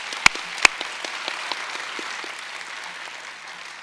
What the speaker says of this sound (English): So let's give them one last round of applause